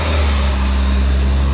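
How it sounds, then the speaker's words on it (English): Heavy trucks and passing traffic at a shopping center give a steady, loud low engine rumble with an idling, droning hum that stays continuous and close throughout. "Excuse the loud noise because there's trucks everywhere"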